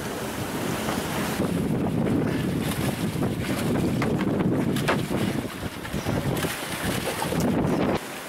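Sailboat motoring under mainsail and engine off the Marquesas, giving a steady, loud wash of water and wind rushing past the hull with continuous low engine drone throughout.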